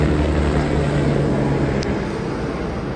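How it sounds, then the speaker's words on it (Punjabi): A helicopter passes overhead on a mountain pilgrimage trail, a loud, steady engine roar and constant heavy drone that eases slightly toward the end. "ਲਓ ਜੀ ਹੈਲੀਕਾਪਟਰ ਆਉਂਦਾ ਹੋਇਆ ਆ ਜਾਂਦਾ ਹੈਲੀਕਾਪਟਰ"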